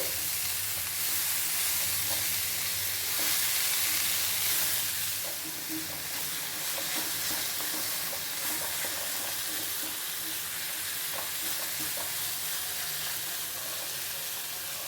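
Spinach sizzles and fries in a pan over lowered heat while being stirred, a steady dense hiss with soft scraping and clinking running throughout, close and continuous with no talk.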